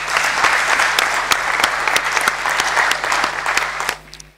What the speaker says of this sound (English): Can I just give one round of applause?